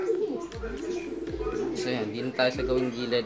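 Pigeons coo repeatedly from close by in a loft, low throaty calls recurring about once a second under steady talking from a man nearby.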